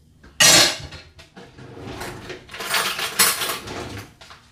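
A spoon clinks against a dish in a few bright, close bursts, first a sharp cluster and then a longer run of rattling taps, with no talking.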